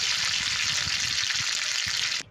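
Close, loud sizzling of mustard-seed tempering with dried red chillies and turmeric frying in hot oil, a steady crackling hiss that cuts off abruptly near the end.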